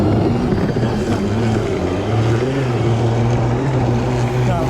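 A 5000W electric mini snow bike is ridden, its motor giving a steady, loud droning whine with a low hum that shifts slightly in pitch, continuous and close throughout.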